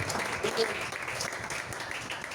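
Congregation clapping together during a French-language church sermon, a steady dense wash of applause heard close and sustained throughout, with voices mixed in beneath the clapping.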